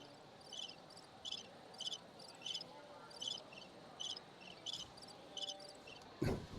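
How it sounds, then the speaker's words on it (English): A crickets chirping sound effect plays at a swim meet, about a dozen evenly spaced bursts of high trilling chirps over a low hum, followed by a short knock at the end. "We'll hear the crickets."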